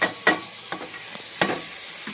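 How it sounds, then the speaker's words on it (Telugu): Tomatoes frying in a pan are heard as a soft background sizzle, broken by a few sharp spoon or spatula taps and scrapes at irregular moments. It is brief and close, with no talking. "ఇంకా టమాటాలు కూడా బాగా ఫ్రై చేసుకున్నామండి."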